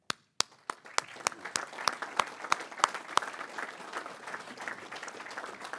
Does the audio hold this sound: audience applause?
yes